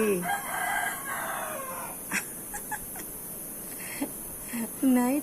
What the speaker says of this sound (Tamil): நைட்டு 9:09க்கு கோழி வந்து எதிர் வீட்டில் கேட்குதா அவங்களுக்கு?